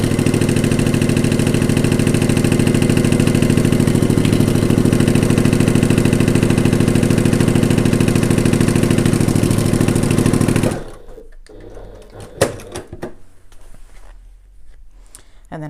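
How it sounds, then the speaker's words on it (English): A sewing machine stitches a seam on a gift bag panel, its motor whirring steadily and loudly for about ten seconds before stopping, leaving near quiet with a few small clicks. "I'll sew this one and then pin the other one and sew the other one"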